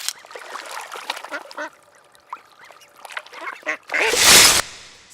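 A duck quacking sound effect sample made for a Lego animation plays as a series of close, nasal quacks and honks, ending in a loud burst of noise.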